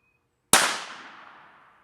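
A tiny handheld gun fires once: a single sharp, loud crack with a ringing tail that fades over about a second and a half, with no voices around it.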